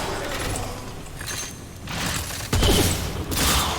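An enemy shotgun fires in the video game Remnant, heard as a few sharp, loud blasts with metallic mechanical clatter between them and a heavier shot partway through, with no talk.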